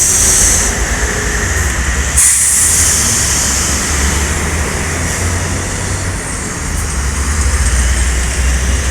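An ALS Sultan Class V77 bus rumbles past at night at a moderate distance at Simpang Macan Lindungan, a steady low engine drone with road noise swelling and fading over several seconds.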